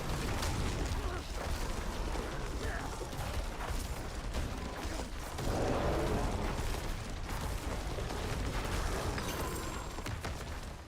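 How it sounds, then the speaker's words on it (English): Explosions in Diablo IV gameplay with a druid in the Eternal Realm. The blasts come in dense, continuous rumbling bursts mixed with clattering mechanical sounds, fairly loud and sustained throughout. "waiting for the explosions to be over"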